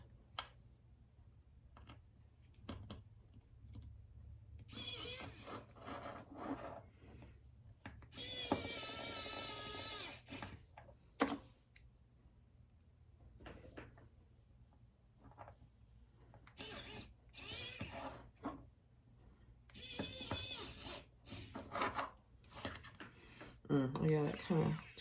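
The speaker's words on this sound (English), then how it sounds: "And my little screwdriver and screw those in" Small hand screwdriver ratcheting screws into a crossbody bag, bursts of quick clicking in several separate runs with pauses between, close and fairly quiet, with a voice talking in between.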